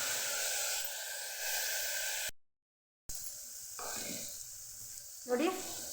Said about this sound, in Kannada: ಎಣ್ಣೆಯಲ್ಲಿ ಸ್ವಲ್ಪ ಬೇಯಲಿ.